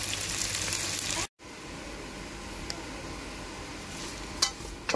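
Soya chunks fry lightly in a pan with onion, giving a steady soft sizzle, briefly cut by a moment of silence, then continuing with faint clicks of stirring.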